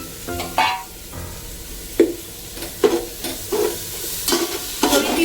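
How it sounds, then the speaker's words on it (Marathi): Prawn biryani masala with mint and coriander is sautéed in a pan, a low steady sizzle broken by several distinct spatula stirring scrapes at irregular intervals, close and clear. "हे सगळं एकसाथ आपण छान परतून घेणार आहोत"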